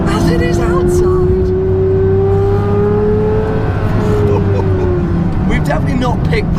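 Pagani Zonda engine revving while driving, a loud sustained roar rising steadily in pitch then easing off, heard from inside the car with a voice talking over it.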